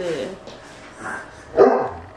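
A dog in a home gives a few short barks and yips close by, with one louder bark near the end, while people talk.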